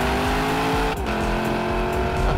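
The V8 of a 2018 Lexus LC 500 revs hard, a loud, close engine note that climbs in pitch, dips briefly and then builds again, with no talk over it.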